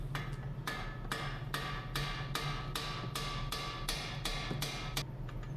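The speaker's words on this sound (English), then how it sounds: "so you gotta hammer them out" Steady hammering on metal, about a dozen sharp strikes at an even pace, close and loud over a low machine hum, driving splined bolts out during a 2019 Ford Fusion CV axle repair.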